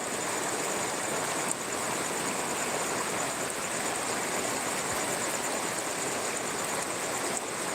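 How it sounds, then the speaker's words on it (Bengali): Heavy rain pouring outdoors at a village crossroads in Purulia district, a dense, steady, loud hiss of falling water with no pauses and no voices. "প্রচণ্ড বৃষ্টি হচ্ছে দেখছেন আবহাওয়ার অবস্থা খুবই খারাপ"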